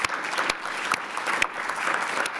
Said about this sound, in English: And can we give them all a great round of applause,